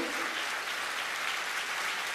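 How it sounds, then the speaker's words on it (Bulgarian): Sustained applause from a crowd, a dense even wash of clapping that holds steady throughout. "Аплодисменти"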